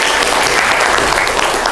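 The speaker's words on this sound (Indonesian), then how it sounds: "Tepuk tangan untuk Risa." Classroom applause, a dense burst of clapping from a group of students that holds steady for a moment, close and fairly loud.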